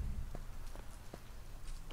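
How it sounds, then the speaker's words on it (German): Rain falls in the farming video game Deiland as a soft, steady hiss with scattered light drops and a few faint taps, heard alone at low level. "Und es regnet. Das ist wunderbar."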